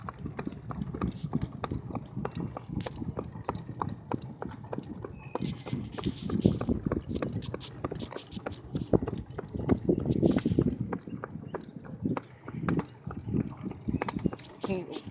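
A pony's hooves clip-clop steadily at a walking pace while it pulls a wagon, the regular hoof strikes close and clear throughout, with people talking now and then over them.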